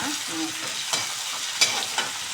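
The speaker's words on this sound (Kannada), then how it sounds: "ಆಮೇಲೆ ಕರಿಬೇವು ಹಾಕ್ಕೋಬೇಕು ನೋಡಿ ಇದು ಸ್ವಲ್ಪ ಫ್ರೈ ಹಾಕಬೇಕು" Onion and curry leaves frying in oil for lemon rice, a steady soft sizzle with a few sharp stirring scrapes and clicks from a spoon in the pan, close by.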